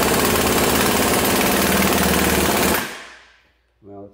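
Hard, rapid mechanical hammering on a Laser Tools impact screwdriver, loud and dense for nearly three seconds before stopping abruptly, followed by near silence and a brief low sound at the end.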